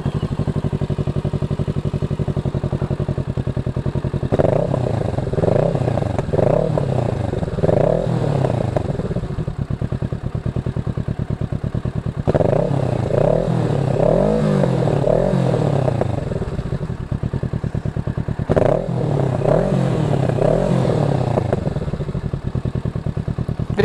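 A Kawasaki Ninja 650 sportbike engine runs close by in Piracicaba, idling between three loud revving bursts that rise and fall, with some clattering mechanical noise.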